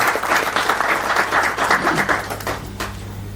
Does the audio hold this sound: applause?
yes